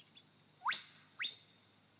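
A lyrebird imitates a whip-bird: a long, thin, high whistle ending in a sharp rising whipcrack, then a second crack followed by another drawn-out whistle, close and clear in quiet forest.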